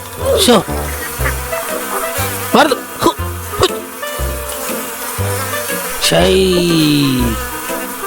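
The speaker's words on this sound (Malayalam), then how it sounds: "എന്താ ഇത്, തേനീച്ചയോ?" Cartoon honeybees buzz loudly in repeated swooping bursts that rise and fall as they fly past, with a longer drawn-out drone near the end.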